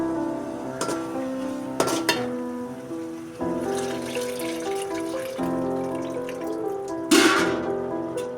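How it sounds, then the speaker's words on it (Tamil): Ground tamarind liquid is poured into a crab gravy cooking in a pan, making a steady liquid pour and light sizzle with a few louder clinks and splashes of utensils. "புளி ஒரு சொல்ல எலுமிச்சம்பழம் அளவு அரைச்சி ஊற்றிக்கலாம்"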